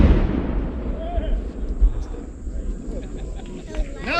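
A historic cannon at a gathering in Zoar, Ohio fires a deep, loud boom that rolls and echoes outdoors, followed by crowd chatter and people talking nearby.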